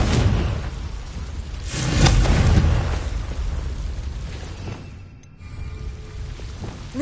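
A Confringo spell blast in Hogwarts Legacy on PS5, with a deep booming burst of fire swelling around the middle, then a low rumbling tail and a brief dropout before the game ambience returns.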